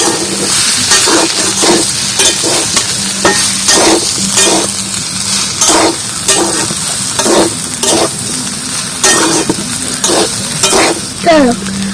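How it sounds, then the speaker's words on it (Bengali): Soybean chunks, cauliflower and potato for a vegetarian cauliflower kalia curry sizzle in oil while a spatula scrapes and stirs the pan in a regular rhythm, loud and close throughout. "এবার এই তরকারি সয়াবিন আর ফুলকপি আলু ভালো করে কষতে নেব"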